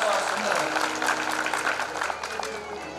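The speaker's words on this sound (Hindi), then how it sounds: "ताली बजाए हो तो लगता है आपके भी उत्साह।" An audience claps during a Ram Katha sermon at Bayana on day 7, giving a burst of dense, fairly close applause that tapers slightly over a few seconds, with a voice audible underneath.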